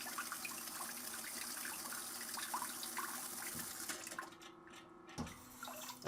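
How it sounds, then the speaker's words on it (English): A CANEST smart bidet toilet sprays water in a steady hiss and trickle at moderate distance. The spray shifts briefly near the end, then continues, and no one speaks over it. "I love the bidet feature. Has a feminine wash and bidet. The water comes out."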